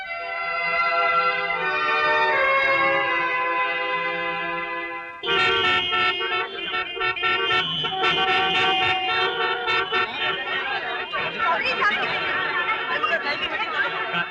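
Road traffic in an Indian street scene jammed by a political rally, with a sustained car horn blaring, then a dense overlapping chorus of horns honking amid crowd chatter.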